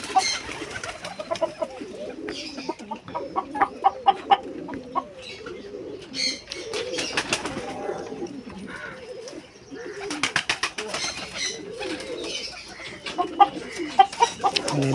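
Pigeons in a loft with young chicks fill the space with a steady chorus of cooing and clucking. Short calls repeat close by over a continuous murmur of the flock, with no talking.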